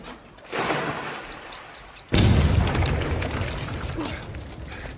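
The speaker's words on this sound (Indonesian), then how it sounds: "Kemudian dia meledakkan tikus yang sudah diberi bom olehnya." Explosion of a rat rigged with a bomb in the 2008 film Wanted, a sudden loud boom that jumps in level partway through and leaves a sustained roaring rumble and crackle afterward.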